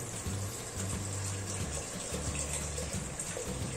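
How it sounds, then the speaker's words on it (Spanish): Water poured into a pot of beef stew to cover the meat, heard as a steady, even gushing and splashing that runs the whole time with no talking. "Vamos a echarle agüita para cubrirla."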